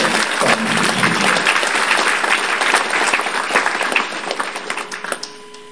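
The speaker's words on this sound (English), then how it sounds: "I want you to join me to give a big applause to Father Archbishop Thomas D'Souza." A large gathering applauds an archbishop at a church event, a loud, dense wash of clapping that holds steady for several seconds before thinning and fading out at the end.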